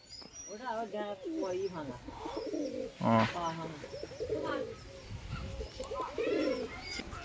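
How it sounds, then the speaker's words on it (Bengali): Pigeons coo softly in a neighbourhood where flocks are being released to fly, the low throaty calls running under someone talking steadily throughout. "সব পাড়া থেকে পায়রা উড়িয়ে দিচ্ছে"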